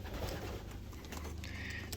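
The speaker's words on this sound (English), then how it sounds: "We've got pigeons going everywhere." Pigeons coo steadily in a low, murmuring chorus around a loft where many birds move about, with a soft, continuous hum underneath and no talking.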